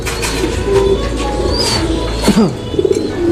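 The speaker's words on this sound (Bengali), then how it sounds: "এটা হচ্ছে ইন্ডিয়ান ফ্যান্টেল" Indian fantail pigeons of the silver barless colour coo nearby in short, soft, repeated calls over a steady background hum.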